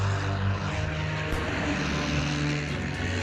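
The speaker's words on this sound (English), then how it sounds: "This one's only big enough to launch a scout plane with a catapult." A propeller scout plane's engine drones steadily on an aircraft carrier deck, a loud continuous roar with a low throbbing hum throughout and no speech.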